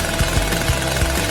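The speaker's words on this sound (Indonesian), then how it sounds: "Oh, gergaji mesin itu pasti akan membantuku." A chainsaw engine runs loud and continuous, a dense, harsh buzzing roar with regular pulsing throbs, and no voices over it.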